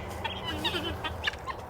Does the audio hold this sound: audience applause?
no